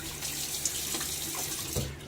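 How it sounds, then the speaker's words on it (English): Tap water runs steadily into a sink, a continuous close splashing hiss with a few brighter splashes as it is scooped onto a face before a shave; no talking. "Let me splash some water on my face."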